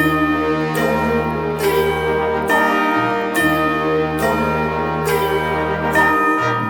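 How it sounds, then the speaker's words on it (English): A Christmas song with bells ringing over full, steady music, bright strikes recurring at an even pace of roughly one per second throughout. "them bells are playing loud and clear"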